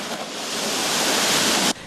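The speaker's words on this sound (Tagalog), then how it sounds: "Kasabay ng malakas na bugso ng hangin ang kapansin-pansing paglaki ng mga alon." Large ocean waves crash and roar continuously in strong gusting wind, a loud, dense rush of surf and wind noise that swells steadily before cutting off abruptly near the end.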